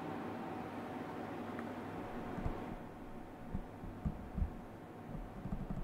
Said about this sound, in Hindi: वो एक जो आवाज है वो एक एसी की आवाज है।